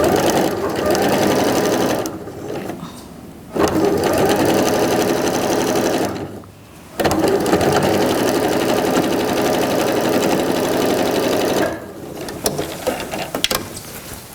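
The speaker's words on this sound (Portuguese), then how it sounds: "Costurei até o fim," Sewing machine stitching a quilt square seam, loud close continuous motor whir and needle rattle in long runs with brief pauses between.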